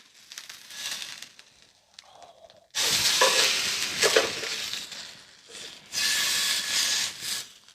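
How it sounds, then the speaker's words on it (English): Steak searing in a hot frying pan, loud bright sizzling that surges in two strong bursts after a quieter, crackly start, with faint scraping as the meat is shifted; no talking. "That sizzling sounds so delicious."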